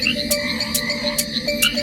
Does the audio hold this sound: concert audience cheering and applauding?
no